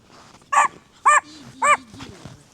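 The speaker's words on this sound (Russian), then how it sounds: "Собачки на меня бегут, лают." A dog barks three times at a steady pace, loud and close, on a walk through a snowy winter forest, with a faint voice and quiet rustling between the barks.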